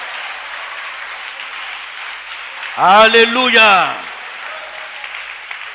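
A church congregation applauds continuously, a steady crackle of clapping that carries on under a voice calling out loudly partway through.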